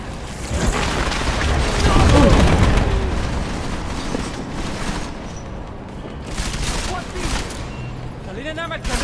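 Gunfire and explosions from the video game Deus Ex: Mankind Divided, a dense run of booms and shots that swells early then continues steadily, with a player's voice talking over the combat.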